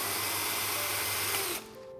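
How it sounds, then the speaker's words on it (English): Power drill whirring steadily as it drives a bolt through the holes of a metal tete-a-tete garden bench frame, loud and continuous for about a second and a half before cutting off abruptly. "simply take your Phillips screwdriver or power drill"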